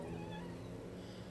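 A cat meows close by in a short, drawn-out, caterwaul-like call that stands alone without any talk.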